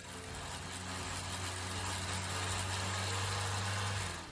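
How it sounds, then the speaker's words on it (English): A Kia car engine runs steadily with a buzzy, droning tone like a grass trimmer, its strong low hum sustained and close for the whole stretch with no talking. "My Kia sounds like a grass trimmer."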